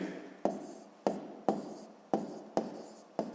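Chalk or marker strokes writing numbers on a board, six short scratchy strokes in a steady rhythm, close and fairly quiet with no talk.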